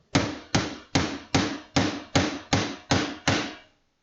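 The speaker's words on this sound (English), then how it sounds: "we're going to use this handy dandy tool called a hammer, and it's going to flatten it right out" Nine loud, evenly spaced hammer blows flatten a part during PC building, each a sharp impact with a short ringing decay, heard alone with no talk.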